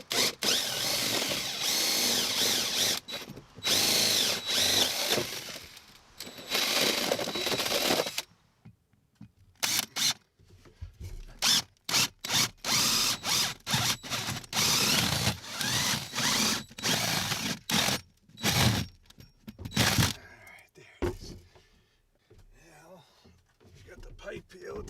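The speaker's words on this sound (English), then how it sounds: "you could pull the drill back right away and stop it, rather than drilling right through whatever the heck you're hitting" Cordless drill boring through wood while plumbing an outdoor shower valve, trigger pulsed in uneven bursts of whirring and grinding with brief pauses, close and loud, with someone talking in between.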